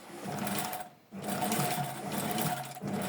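A sewing machine runs in a steady continuous whir while stitching along a fabric border, with a short pause around the middle before the motor starts up again, close and fairly loud.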